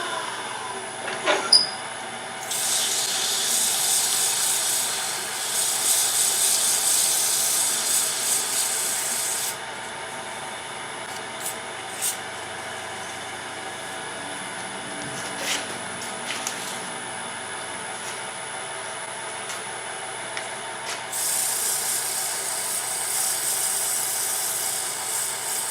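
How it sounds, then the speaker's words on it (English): Intermittent abrasive rubbing against a spinning wooden lidded box on a lathe, sanding in bursts with quieter pauses between, steady mechanical hum underneath, no talking. "do a little bit of finish sanding on it"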